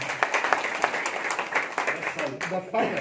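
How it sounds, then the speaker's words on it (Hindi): An audience at an education event in Gwinnett welcomes a former Gwalior municipal council chairman with applause, a brief burst of crowd clapping that is mixed with voices and fades out near the end. "उनका एक बार तालियों के साथ स्वागत करें।"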